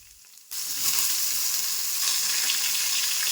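Chopped onion and tomato drop into a hot pan of partly boiled potatoes for spicy semolina, setting off a sudden loud, steady sizzle that keeps crackling close by without any talk.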